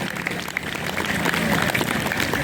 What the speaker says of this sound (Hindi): जोरदार तालियां इस प्यारे संगीत के लिए